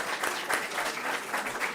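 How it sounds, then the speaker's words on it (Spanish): An audience at an exhibition event breaks into dense, sustained clapping that fills the room evenly from start to finish. "vamos a aplaudir"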